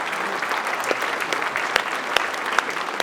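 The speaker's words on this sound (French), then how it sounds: "Vous pouvez aller les applaudir" Steady applause from an audience at a New Year's greetings ceremony in Notre-Dame-de-Gravenchon, many hands clapping continuously for the children's municipal council, with a few sharper claps standing out, filling the room.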